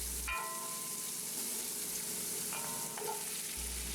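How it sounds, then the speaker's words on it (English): Chopped onion and celery sear in bacon grease in a pot for clam chowder, giving a steady, close sizzle with a brief stir partway through, alone without talk. "We can then use the bacon grease to sear and caramelize the chopped onion and celery"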